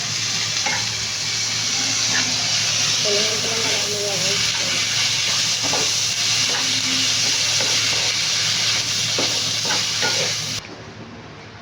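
Cabbage and egg stir-fry with light soy sauce and oyster sauce sizzling and hissing steadily in a hot wok, with the scrape and clatter of stirring throughout, close and fairly loud, then cutting off near the end.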